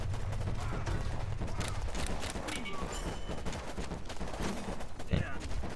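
Dense rapid gunfire from AK infantry units rattles through the Warpips video game battle, a continuous fusillade of overlapping shots close and loud, with someone talking over it.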